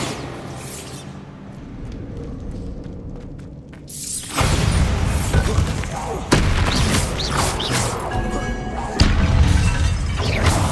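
Bombarda blasting spells exploding in Hogwarts Legacy: a quieter lead-in, then a loud crashing blast with debris, followed by two more sharp explosive impacts.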